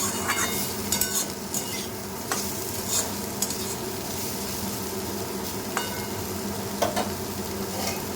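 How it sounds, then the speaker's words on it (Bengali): Chopped banana stem (thor) with turmeric, salt and sugar is stirred in a hot pan, giving irregular scraping knocks from the spoon over a constant oil sizzle. "নেড়ে দেবো।"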